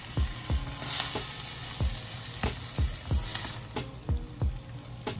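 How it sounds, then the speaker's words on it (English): Plantain mixture stirred in a sizzling frying pan, a steady hiss of hot oil broken by repeated soft scraping thumps of the spoon at an uneven rhythm, close and fairly loud. "Going to give this a mix."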